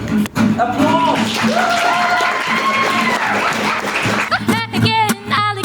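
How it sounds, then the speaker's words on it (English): Loud, dense audience applause and cheering at a convention's evening program with a live band in the studio, sustained for several seconds with musical or sung tones ringing over the clapping. "Applause!"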